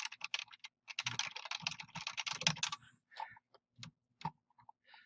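Rapid keystrokes on a computer keyboard as a search query for an oral surgeon is typed, a dense burst of clicks followed by sparser, separated taps near the end; no talking.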